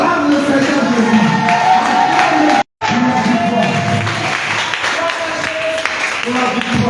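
A congregation at an intense prayer night in Bingerville cheers and applauds loudly in a reverberant hall, a continuous crowd roar with clapping and voices, broken by a brief dropout.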